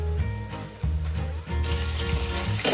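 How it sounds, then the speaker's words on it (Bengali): Potatoes frying in oil in a home kitchen, a steady crackling sizzle with a low hum underneath, growing brighter toward the end, with no voices. "আলুগুলোকে একটু মচমচে করে ভেজে নেব"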